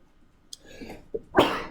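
A single close, sharp sneeze after a brief intake of breath, loud and sudden against near silence.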